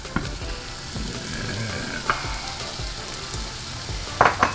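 Crawfish tipped into a pan of softened, seasoned vegetables set off a steady close sizzle and frying hiss, with a few sharp clatters and stirring scrapes along the way.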